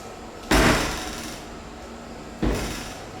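Glass shower doors in a campground shower room in Elkhart, Indiana, give two separate thudding knocks about two seconds apart, each followed by a short fading rattle, close by and moderately loud.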